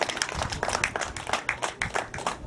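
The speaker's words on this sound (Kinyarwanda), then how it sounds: "abambere amashyi cyane" Audience applause at a gusaba betrothal ceremony: a dense, steady burst of many hands clapping close by for a few seconds, with no voices over it.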